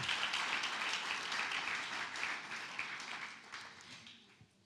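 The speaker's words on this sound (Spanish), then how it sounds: "Les damos un fuerte aplauso de bienvenida." A church congregation gives a dense, sustained round of welcoming applause, steady and fairly distant, tapering off toward the end with no talk over it.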